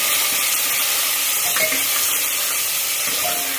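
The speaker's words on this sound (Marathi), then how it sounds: "तो कांदा मी तेलामध्ये परतून घेणार आहे" Chopped onion fries in oil with a loud, continuous hissing sizzle, close up, with a few faint utensil clinks.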